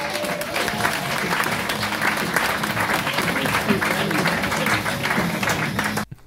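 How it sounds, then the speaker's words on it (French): Audience at a stand-up comedy show in Montréal applauds loudly and continuously for about six seconds, dense clapping with a few cheers, stopping abruptly at the end. "J'aimerais s'il vous plaît qu'on donne une bonne main d'applaudissement pour Régis Camon!"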